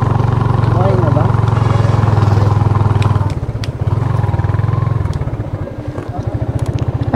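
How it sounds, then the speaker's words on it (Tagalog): Steady low engine rumble of motorcycles idling and revving nearby at a motorcycle parking area near Imugan, Santa Fe, Nueva Vizcaya, with a pulsing throb that shifts midway, alongside faint background voices. "Puro motor dito eh."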